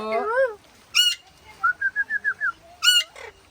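Pigeons call close by in a quiet setting, with a quick run of six short, evenly spaced notes between sharper cries.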